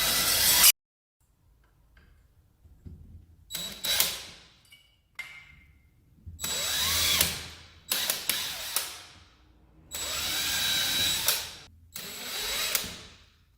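A cordless drill whirs in repeated short bursts while marking holes for blind mounting brackets on wooden molding, each run a few seconds long, loud and close, separated by brief silences.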